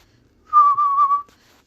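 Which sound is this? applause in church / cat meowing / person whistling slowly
person whistling slowly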